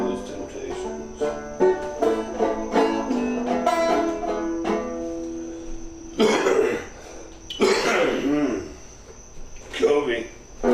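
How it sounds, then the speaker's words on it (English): A person coughs several times in harsh, loud bursts in the latter half, after earlier tonal plucked-string sounds, while a steady insect chirp persists in the background. "Excuse my cough."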